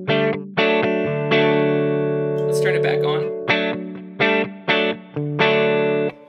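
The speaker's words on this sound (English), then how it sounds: "we do have a little bit of spring reverb in this sound" A Line 6 Helix running the Lone Star amp model rings out sustained electric guitar chords with light spring reverb, the strums repeating in a steady rhythm, and a brief spoken line breaks in midway.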